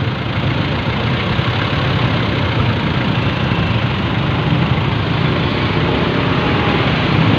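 Motorcycle engines idle in Manila traffic on a rainy day, waiting to pull away, a steady close rumble with a constant mechanical drone and no clear revving throughout.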